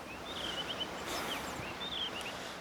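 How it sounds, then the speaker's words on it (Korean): A blue rock thrush calls on the coast of Marado island, several clear whistled phrases rising and falling at moderate distance over steady wind and surf noise, with no talk. "지금 저기 울고 있는 게 바다 직박구리라는 해안가에서 주로 보이는 새인데"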